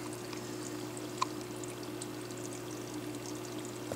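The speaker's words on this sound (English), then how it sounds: "So I got bubbles coming, or it's coming out of here, going into the bubble counter right there." Steady stream of small CO2 bubbles rising through water in an aquarium bubble counter, with a continuous low hum from nearby equipment underneath; faint, even and unbroken, no talking.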